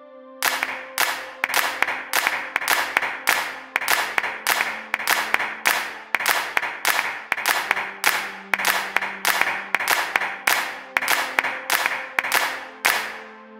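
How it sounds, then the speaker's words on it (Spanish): Farm labourers on an estate clap out a steady harvest rhythm, a long run of sharp, evenly spaced handclaps with a sustained tone humming beneath, close and continuous with no voices. "los labradores de la hacienda marcando el ritmo de la siega con sus palmas"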